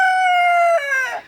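A rooster in a backyard homestead chicken coop crows once up close, a loud drawn-out note that breaks and trails off at the end.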